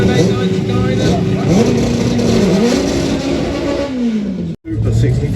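A front-wheel-drive doorslammer drag car at a European FWD drag racing elimination event revs loudly with rising and falling engine pitch, cuts out for a moment, then resumes, with an announcer talking over it throughout.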